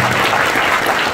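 An audience of villagers claps loudly at a kirtan during a temple centenary festival, a dense, continuous burst of applause lasting about a second.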